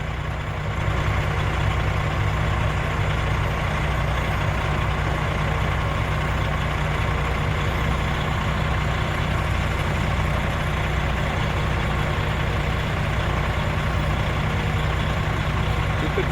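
Large 300-series rock trucks idle and run at a contaminated soil loading site, a constant heavy diesel drone with deep low rumble holding steady for the whole stretch, faint voices now and then.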